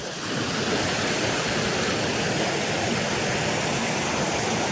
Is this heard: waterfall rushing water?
yes